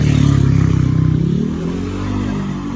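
A motorcycle engine revs loudly up close, a dense buzzing roar that starts high and eases down in pitch, then holds a rougher steady idle-like rumble, with no voices over it.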